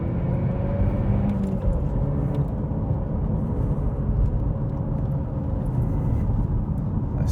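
A 2014 Opel Astra VXR with a 2.0 engine pulling away from a launch, heard from inside as a steady, loud, droning engine rumble that holds evenly throughout with no talk over it.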